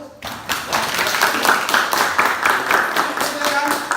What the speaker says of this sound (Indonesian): ini tepuk tangan untuk kelompok 1